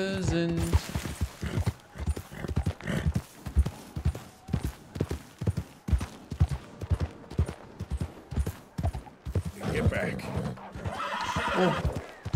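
Horses riding at speed in Red Dead Redemption 2, a rapid, steady gallop of loud hoofbeats with neighs and whinnies, ambience swelling near the end.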